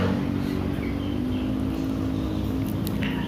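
Main-road traffic with motorcycles passing, a continuous low engine drone and rumble with a faint rising whine, moderately loud and steady throughout, no talk.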